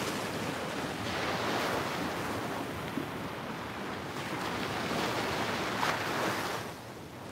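Ocean surf with foamy waves washes steadily at a moderate distance, a continuous broad roar mixed with wind buffeting the microphone and no voices.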